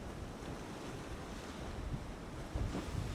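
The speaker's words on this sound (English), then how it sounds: "Check out these waves for a minute." Ocean surf washes in and out at Half Moon Bay beach in Antigua under gusty wind noise, with a louder wave surging near the end.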